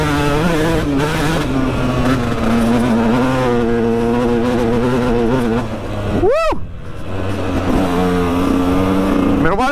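A motorcycle ridden along a wooded track drones loudly and steadily up close, its engine note rising and falling with throttle changes and a sharp rev burst partway through.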